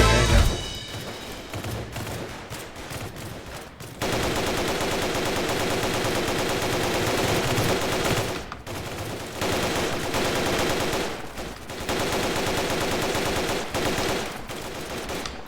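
Rapid gunfire in the Roblox Squid Game, long bursts of dense automatic shots that go on for seconds at a time, broken by brief gaps, loud and close with no talking.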